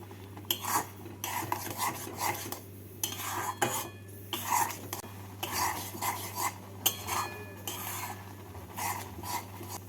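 Sweet potato rospuli filling, made with powdered milk, being stirred in a kadai on a gas stove, with repeated scraping and clinking of a spoon against the pan in an irregular rhythm over a steady low hum.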